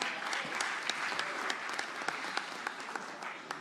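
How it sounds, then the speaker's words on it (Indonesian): Applause from an audience after a political speech by a newly declared vice-presidential candidate, dense steady clapping from a crowd, moderately distant and even throughout. "kita berikan tepuk tangan yang meriah"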